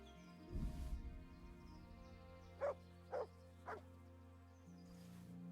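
A dog barks three times in the medieval role-playing game Kingdom Come: Deliverance, short separated yips rising over a quiet game background with a low rumble and a brief burst of noise earlier.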